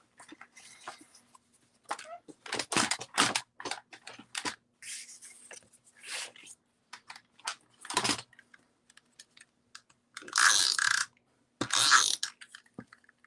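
An embossing folder cranked through a manual die-cutting machine while making embossed cards gives a run of close, irregular ratcheting clicks and mechanical clatter, with louder grinding bursts toward the end and no talk over it.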